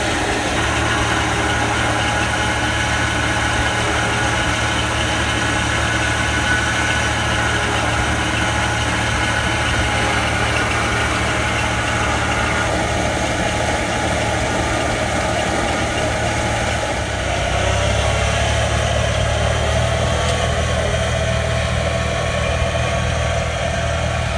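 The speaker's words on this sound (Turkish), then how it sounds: "Her zaman gibi traktörümüz Liholand 265" A Liholand 265 tractor drives a pneumatic seed planter. Its engine runs steadily at a loud, close idle-like drone, with a steady fan or blower hum on top. The low engine note shifts slightly in pitch near the end.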